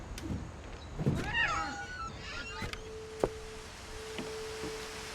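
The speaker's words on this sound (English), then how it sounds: "Also, I just heard a cat." A cat meows faintly in the video game What Remains of Edith Finch, a short wavering cry or two rising over quiet ambient noise, followed by soft knocks and a thin steady tone.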